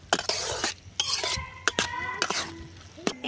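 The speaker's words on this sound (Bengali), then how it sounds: "ঝিঙে আলুর মধ্যে কষিয়ে নেব।" A spoon stirs ridge gourd and potato with chili powder and turmeric in a pan, with several close, sharp scrapes and clanks against the pan in uneven bursts over a soft background sizzle.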